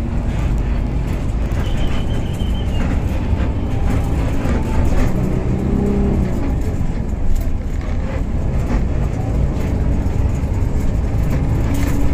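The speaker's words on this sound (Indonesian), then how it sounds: "Bus ini langsung berangkat lagi menuju Jakarta dan masuk lagi ke tol ya." A bus driving onto a toll road toward Jakarta, heard from inside as a loud, steady low engine and road rumble with continuous rolling noise and no speech.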